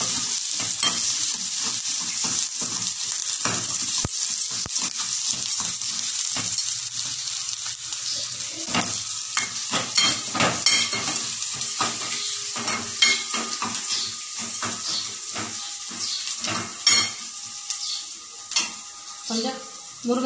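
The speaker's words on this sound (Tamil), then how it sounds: "முருங்கைத்தலை கொஞ்சம் வதங்கணும்னு போட்டுக்கலாம்." Green chilies and drumstick leaves sautéing in a pan, a continuous frying sizzle broken by frequent quick spatula scrapes and clicks against the pan, close-up throughout.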